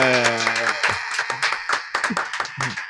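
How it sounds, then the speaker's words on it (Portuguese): Audience applause welcoming Felipe Grinão, a voice-acting guest, onto a Brazilian talk show: a burst of clapping runs under loud, excited hosting speech for about three seconds. "Uma salva de palmas para o Felipe Grinão!"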